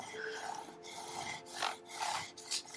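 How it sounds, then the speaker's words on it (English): A squeegee pressed and rubbed over a vinyl stencil on a slightly bowed wood board, giving soft, close scraping strokes that rise and fall in several short passes. "So now I'm just gonna squeegee this down."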